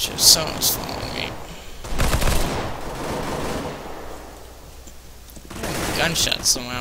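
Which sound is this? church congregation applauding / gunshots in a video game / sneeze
gunshots in a video game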